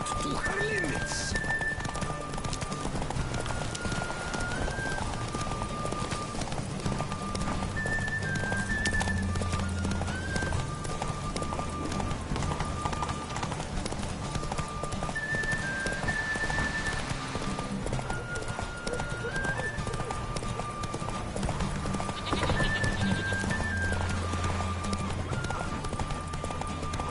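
A horse gallops at full speed in The Witcher video game, its rapid rhythmic hoofbeats running steadily throughout, close and continuous under game music and ambient tones.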